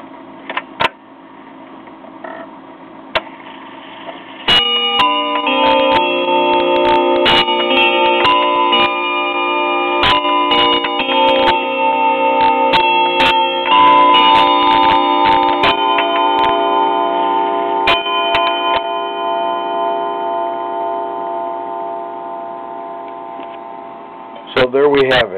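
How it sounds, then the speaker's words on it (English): A 1937 Sessions electric mantle clock strikes the Westminster chime, its ringing melodic tones close and loud and overlapping for about twenty seconds, with a few sharp clicks of the mechanism before and after. "electric mantle clock, 1937. Westminster chime."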